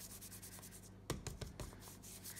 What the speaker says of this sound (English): this is an anti-static pillow and it stops the embossing powder from sticking where you don't want it to be